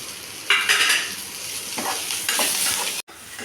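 Garlic, ginger and curry leaves sizzle and crackle in a hot pan while being stirred, with a few louder bursts of frying and a brief metallic clatter near the end, no voices.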